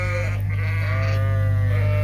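Farm sheep bleating close by, several wavering cries over a steady low mechanical hum.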